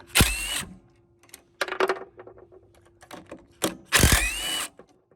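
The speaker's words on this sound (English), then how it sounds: "What you have to do is take these two bolts out." A ratchet wrench backs bolts out of a Honda Harmony lawn mower, giving short bursts of rapid metallic clicking separated by quieter clinks and handling noise, close and fairly crisp, with no talking.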